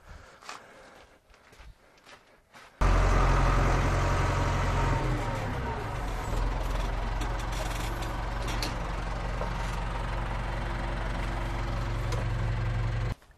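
A CASE 4230 tractor engine starts after a quiet stretch and then runs at a loud, steady idle close by during a hydraulics test, holding an even drone until it cuts off at the end.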